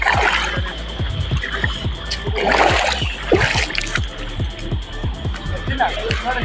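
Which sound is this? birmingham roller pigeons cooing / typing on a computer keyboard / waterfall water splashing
waterfall water splashing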